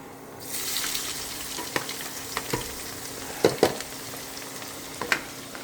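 Peanuts and chili frying in a pan for adobong mani, with a steady close sizzle and several sharp clacks and scrapes as the mixture is stirred.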